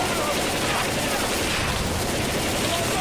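Dense, continuous gunfire from a Left 4 Dead 2 shootout rattles loudly and without pause, a steady wash of overlapping shots filling the whole stretch.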